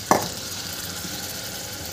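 Washed rice is stirred into a sizzling pot of tondli bhat. A single sharp scrape sounds near the start, then steady frying crackle follows with no talk.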